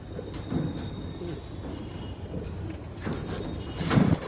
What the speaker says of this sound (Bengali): এই কালো পায়রা পরপর আজকে সব কালো পায়রাই আপনাদেরকে আমি দেখাচ্ছি